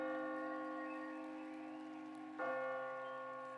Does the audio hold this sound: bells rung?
yes